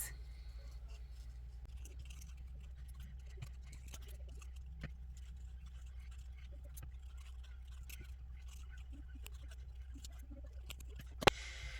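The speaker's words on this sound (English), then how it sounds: "I'm going to trim a little bit more away from this" Scissors snip paper while trimming an artist trading card with an Arctic fox image; faint, sparse cuts and light paper rustles sit in a quiet room.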